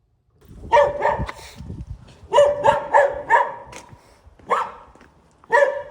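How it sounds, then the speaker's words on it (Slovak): Dogs bark from houses at a passing runner in a residential street in Prešov, Slovakia, several barks in clusters of two to four with short pauses, fairly close and loud, with no talking. "z každého druhého domu to na mňa vyštekujú"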